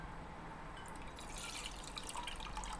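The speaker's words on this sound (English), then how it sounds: "I'm also gonna pour myself a cup." Coffee being poured into a cup, heard as a faint, continuous trickling and dripping of liquid over a low background hum, steady throughout.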